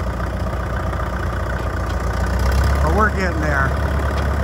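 A tracked machine with a faulty right steering clutch idles steadily throughout, its low engine drone constant, while someone speaks briefly over it near the end.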